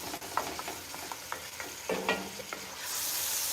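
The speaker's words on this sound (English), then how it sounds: "you go ahead and stir it in" A spoon stirs bear meat chili in a pot, with soft scraping strokes against the pot and a gentle sizzle underneath, ending in a steadier hiss, close by with no talking.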